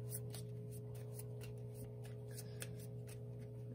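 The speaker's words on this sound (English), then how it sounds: "I'll shuffle the other one back into the deck" Game cards being shuffled back into a deck during a solo tabletop board game, a soft continuous papery riffling and rubbing with light ticks, close and fairly quiet over a steady low hum.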